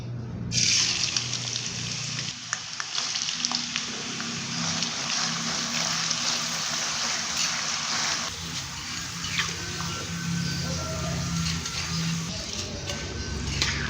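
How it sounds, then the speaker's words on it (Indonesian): Strips of potato deep-frying in hot oil make a dense, continuous bubbling sizzle that stays loud and close from start to finish. "Langsung saya akan menggoreng hingga kering."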